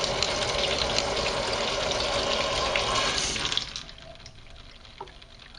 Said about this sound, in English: when you turn it one way, it starts to leak through the valve itself